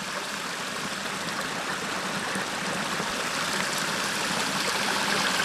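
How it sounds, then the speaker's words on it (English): Irrigation water flows steadily from siphon tubes into furrows of an onion field in Wilder, Idaho, a continuous broadband rushing and trickling wash that holds even throughout. "Siphon tube flood irrigation in the onions."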